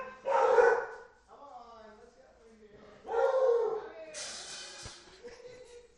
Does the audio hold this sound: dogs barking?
yes